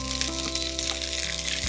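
Chopped ginger hitting hot oil in a pan while cooking Punjabi chole: a steady, soft sizzle with faint crackles and a low, constant hum beneath it.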